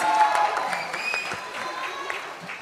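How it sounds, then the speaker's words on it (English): Applause from an audience at the Baazaar film trailer launch event, a steady wash of clapping that fades slightly over its short span, with faint crowd murmur mixed in. "give him a round of applause, ladies and gentlemen"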